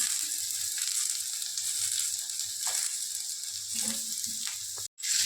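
Bitter gourd and potato pieces fry in a hot pan of oil, giving a steady close hiss and sizzle with a few soft clinks of the pan.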